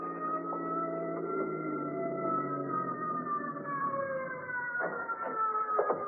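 Wailing ambulance siren from an old-time radio police drama, rising and falling in long sweeping tones as it draws near, steady and prominent throughout without voices.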